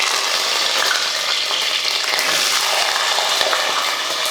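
Curry leaves dropped into hot oil for a Tamil ennai kathirikai (oil-cooked brinjal) curry give off a loud, steady crackling sizzle that holds for several seconds with no voice over it.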